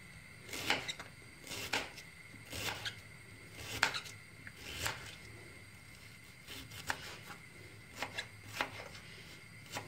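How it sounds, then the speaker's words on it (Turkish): A large onion being sliced lengthwise on a cutting board, a series of crisp knife chops in an uneven rhythm, close and fairly quiet, with no talking. "bir büyük baş soğan yetiyor. Bunu da böyle uzun uzun doğruyoruz"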